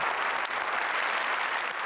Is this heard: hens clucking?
no